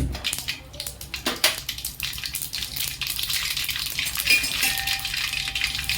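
Mustard seeds crackling and popping in hot oil in a pan, a fizzy sputter of small irregular pops heard up close.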